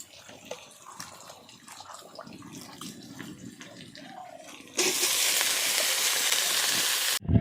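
Water gushes hard from a tap after a stretch of quieter background noise, a loud steady hiss of running flow lasting several seconds before stopping abruptly.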